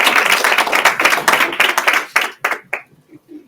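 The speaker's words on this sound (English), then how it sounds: "Give a big round of applause for our first one, Steve." Audience applause at a fireside chat honoring Alaskan women entrepreneurs, a dense burst of many hands clapping that thins into a few scattered claps and fades out near the end.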